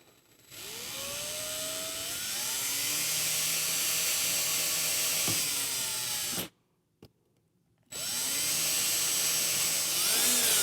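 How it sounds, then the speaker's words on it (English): A power drill whines steadily at high speed as it bores a pilot hole into a dowel set flush in a pipe end, cuts out briefly, then spins up again. "drill the pilot hole"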